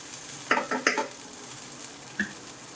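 Masala for chicken biryani sizzles gently in a pot over a low flame, a faint steady hiss broken by a few brief stirring scrapes and clinks, with no talking.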